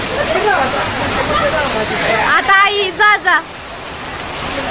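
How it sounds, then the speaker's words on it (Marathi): Heavy rain pours down as a constant broadband hiss, with several people talking and calling out over it at close range. "इतका भयंकर पाऊस आहे"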